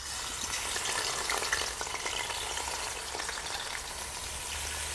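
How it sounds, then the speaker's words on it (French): Meat sizzling in hot oil in a cooking pot, a dense, continuous frying crackle that stays loud and steady throughout, with faint stirring and no voices. "Je vais renverser l'huile dans ma marmite. Je vais mettre ma viande qui est déjà bien lavée."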